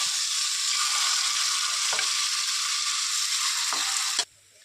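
Ponganalu batter hits hot oil in a paniyaram pan, giving a loud continuous sizzle with a few small clicks before it cuts off abruptly near the end.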